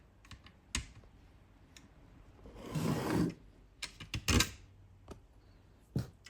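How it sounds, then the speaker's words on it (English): Long screws driven into a Dyson Gen5 cordless vacuum during reassembly: a few sharp close clicks and taps, a short whirring burst in the middle, then more scattered plastic clicks, without speech. "Now we want to put these in, these screws here."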